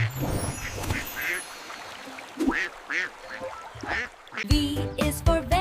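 A quick run of four or five duck quacks, close and distinct over a quiet noisy background, gives way to a burst of upbeat children's song music.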